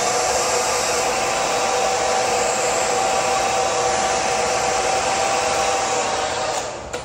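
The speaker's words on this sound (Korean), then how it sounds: "드라이기에 뜨거운 바람을 이용해서 피벗 포인트를 형성하겠습니다" A hair dryer blows hot air continuously with a steady whooshing roar, close and loud, shutting off just before the end, while shaping hair during a salon blow-dry.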